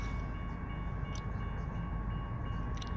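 Metrolink commuter train approaching at a street crossing, a steady low rumble with a few faint high squeals, continuous and fairly distant, no talking.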